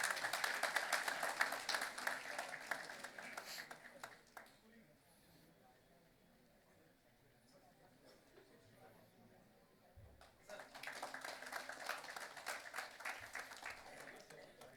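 Audience at a national convention of insolvency professionals claps in two bursts, moderate and roomy, with a quieter stretch of murmuring and faint talk in between.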